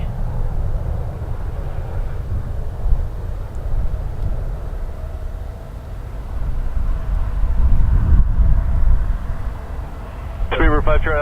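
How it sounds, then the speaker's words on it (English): A Boeing 787 Dreamliner airliner flying over Toronto Pearson Airport, a low steady rumbling roar that swells and fades under broadband wind noise, with a brief tonal whine near the end. "we're gonna catch a Dreamliner flying over"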